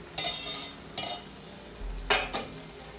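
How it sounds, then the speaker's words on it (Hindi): Pineapple suji halwa stirred and scraped off the bottom of a pan over high heat, a few sharp metal scrapes in quick bursts with soft clatter between them, close and without talk. "देखो नीचे पकड़ रहा है, अभी तक जला नहीं है तो मैं उसको छुड़ा रहा हूँ।"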